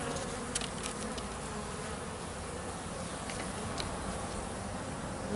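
Steady dense buzzing of young honey bees making orientation flights around a hive entrance, a continuous near swarm drone with a few brief closer passes.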